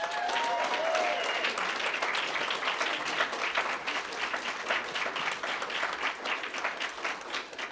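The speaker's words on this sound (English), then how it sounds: "So let's have another round of applause for them." Sustained audience applause fills an award ceremony for emerging LGBTQ writers, dense, steady clapping from a sizeable crowd that holds fairly loud throughout, with faint voices briefly audible early on.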